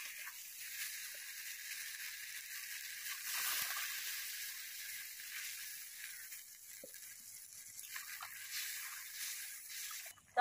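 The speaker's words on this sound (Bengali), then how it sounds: "এবার পরিমাণ মতো জল দিয়ে দেব।" Frying potato curry in a pan, for a hilsa and eggplant dish, keeps up a soft continuous hiss and sizzle after water is poured in, with faint sloshing and a few light utensil taps.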